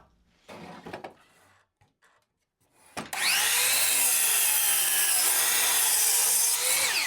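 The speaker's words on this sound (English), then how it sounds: "The miter saw didn't trip out the breaker." A miter saw cuts oak boards for a storage crate: a few handling knocks and short rubbing sounds, then the blade spins up and bites into the wood with a loud, sustained whine that holds for about four seconds before easing off.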